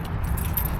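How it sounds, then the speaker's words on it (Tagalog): Car keys jangle briefly and close by, a soft metallic rattle lasting under a second. "Ating susi."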